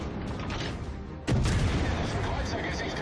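Destroyer guns fire in World of Warships Legends with a single sudden, punchy boom, followed by a sustained rumbling roar of naval combat, while someone talks over the action.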